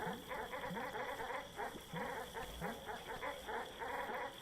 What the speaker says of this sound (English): Time for some barking.